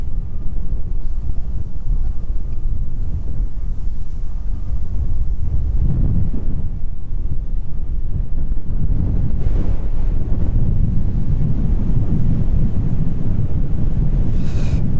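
Steady, heavy wind buffets the microphone at East Midlands Airport, a dense low roar that never lets up across the whole stretch, with gusts swelling now and then and no voices over it.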